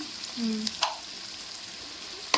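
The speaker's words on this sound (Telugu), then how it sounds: "టమాటా ఫ్రై అయింది అమ్మమ్మ ఫ్రై అయిపోయింది లైట్గా ఫ్రై కావాలా మామూలు ఫ్రై కావాలి" Tomatoes frying in a pan for a gravy chicken curry, a quiet steady sizzle with a few clinks of a utensil against the pan.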